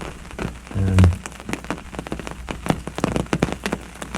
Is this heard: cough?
no